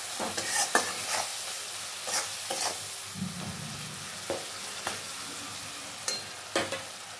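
A paneer and potato mixture with turmeric, cumin and coriander powder is stirred in a frying pan, a low sizzle under scattered scraping strokes and light spoon taps, quiet and close.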